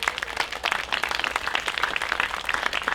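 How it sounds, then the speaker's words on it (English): An audience at an outdoor festival's front porch stage applauds, dense steady clapping from many hands, close and lively for the whole stretch. "Clap for Maria."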